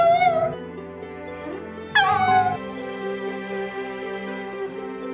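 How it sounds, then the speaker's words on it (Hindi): A dog cries and whimpers in high, wavering whines, two drawn-out bursts that slide downward in pitch, close and fairly loud, with softer trailing whimpers after. "उसके बाद वो कुत्ता बहुत ज्यादा रोने लगा और उसने खाना"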